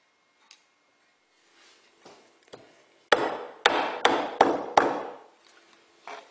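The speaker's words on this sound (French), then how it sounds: "je vais mettre trois petites pointes" Three small nails are hammered into a wooden butterfly decoration for a coat rack: a few light taps, then five or so sharp, loud hammer strikes in a steady rhythm, fading to faint taps.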